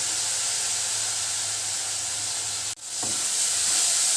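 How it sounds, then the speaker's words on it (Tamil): Tomatoes sauté in a pan for neem flower kuzhambu, a steady close sizzle and hiss that briefly cuts out and then resumes, with a few stirring knocks and no speech. "தக்காளி நல்லா வதங்கணும்."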